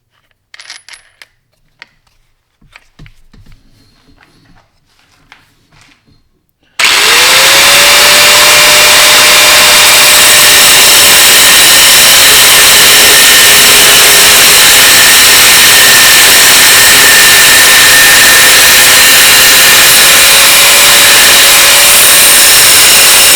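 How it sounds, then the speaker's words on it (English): A cutoff wheel on a grinder cutting metal during a race harness install in a K24 prototype racer, a loud continuous high whine and grinding screech that starts abruptly after a few seconds of faint clatter and runs steadily. "we're just going to use a simple cutoff wheel on the old death machine here"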